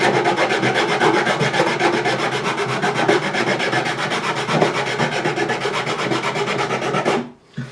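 Steady rasping strokes of a file smoothing the wood of a repaired snapped neck on a Yamaha APX 500 acoustic guitar, a continuous close scraping rhythm that stops abruptly near the end.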